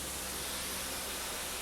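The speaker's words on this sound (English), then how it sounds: "That noise you can hear is the cylinder cock still open." Steam hisses steadily from the open cylinder cock of a steam locomotive, a dense, broad rushing noise that stays constant and loud throughout with no voices.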